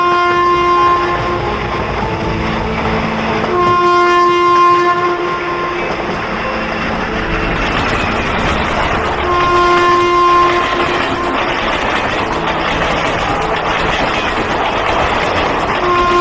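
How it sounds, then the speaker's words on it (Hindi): A train pulls into a station, its horn sounding in long sustained blasts twice over roughly sixteen seconds, with steady loud rumble and rolling wagon noise throughout and no talk. "चूहापुर जाने वाली ट्रेन पनौतीपुर स्टेशन पे आ रही है"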